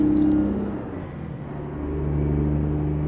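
Mack R truck diesel engine in Euro Truck Simulator, pulling a long double trailer with lightweight cargo, drones in a steady loud low rumble throughout, with slight swells in revs and no talk.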